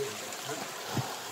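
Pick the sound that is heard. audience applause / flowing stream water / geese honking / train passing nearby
flowing stream water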